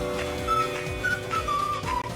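Bright melodic whistling in generic upbeat Kickstarter-style trailer music, several short whistled phrases rising and falling over a bouncing backing with steady percussion.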